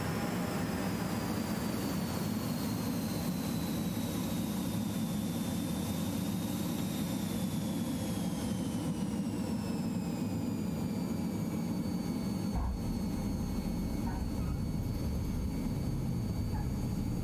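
A Hawk T1 jet in Microsoft Flight Simulator keeps up a steady roaring engine whine with a falling high tone as it comes in to land, loud and continuous, with a brief thump near the end.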